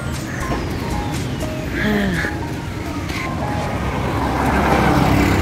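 Steady roar of passing cars and trucks along a highway in Sumilao, Bukidnon, a dense broadband rumble with a faint siren-like whine sliding through, swelling slightly louder toward the end.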